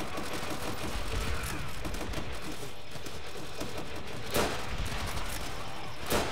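Gunfire in Call of Duty: World at War comes as a steady, dense clatter of shots, with sharper, louder reports standing out now and then. The firing goes on for the whole stretch.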